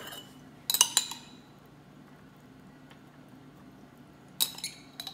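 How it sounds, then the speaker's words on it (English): Corn and garlic go into a baking pan for an oven seafood boil, giving two brief clusters of clinking clatter against a quiet background. "So I'm putting the corn in, and then as I'm putting the corn in, I'm also gonna do the garlic."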